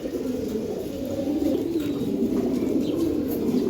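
Giribaz pigeons coo continuously in a loft, a loud, close, throbbing low murmur that rolls on without pause, with faint chirps above it.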